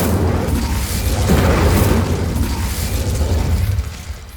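In Hogwarts Legacy an Incendio spell ignites braziers with a loud, rumbling whoosh of flame that swells and roars low for several seconds before easing off, no talk over it.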